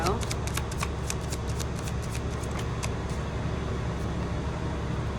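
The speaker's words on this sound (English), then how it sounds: "let's go ahead and get some cards out from the Child Tarot" Child Tarot cards being shuffled, a rapid run of crisp riffling snaps close by over a steady low hum.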